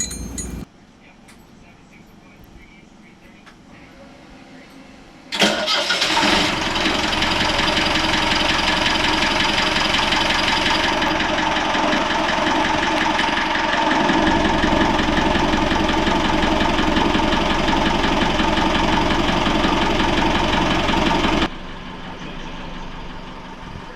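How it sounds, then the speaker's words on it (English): A new marine engine starts up in a sailboat's engine room, a loud steady mechanical rumble with clattering knock that holds for about sixteen seconds before dropping to a lower, quieter run. "I will show you a video of what the engine looks like in the engine room, and of course it's starting and working amazing"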